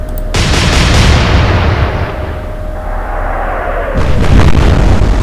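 Heavy cruiser guns firing in Atlantic Fleet, an immediate deep booming salvo with long rumbling decay, followed by another burst of distant shell explosions near the end.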